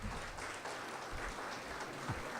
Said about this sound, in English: thanks for applauding her